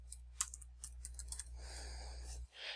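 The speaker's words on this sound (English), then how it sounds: "I'm just going to type Wright and click go." Quick bursts of typing on a computer keyboard, close and fairly quiet, with separate key clicks and short pauses over a steady low hum, ending in a softer clatter.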